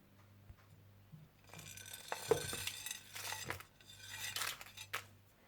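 Whole spices for biryani masala, dried plums, bay leaves, green cardamom, black pepper, cloves and cinnamon, are stirred in a bowl, giving soft rattling and clinking scrapes that build and fade, close and alone.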